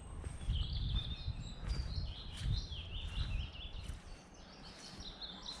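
Several birds sing and chirp in a nature park in the Staffordshire Moorlands in May, their high, thin calls overlapping at a moderate distance over a steady low outdoor rumble of wind and handling noise.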